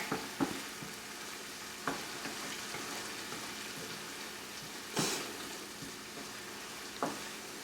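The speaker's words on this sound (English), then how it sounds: "really get a good scrape on the bottom and get those little crusty bits off of the bottom" A steady sizzle of frying under a few sharp scraping strokes against a pan, spaced irregularly, fairly quiet and close.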